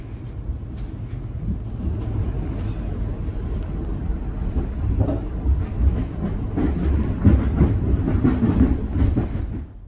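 Siemens Nexas Metro Trains Melbourne train running, heard from on board as a steady loud rumble with rhythmic clicks and rattles over the rails, continuous throughout.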